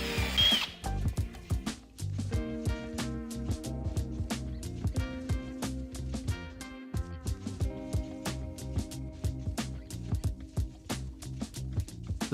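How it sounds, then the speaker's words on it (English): A power drill boring a hole into a door to fit a magnetic catch on a double swing door, steady whirring with repeated sharp clicks and bursts, close and continuous. "We measure and drill a hole for the magnetic mechanism."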